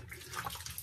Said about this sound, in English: Some hot water here.